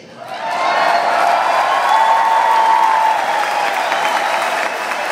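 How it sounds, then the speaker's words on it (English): A crowd breaks into applause for a speaker marking his 71st birthday, clapping swelling quickly to a loud, sustained level with a few cheers mixed in, then easing slightly. "I got a round of applause just for making it."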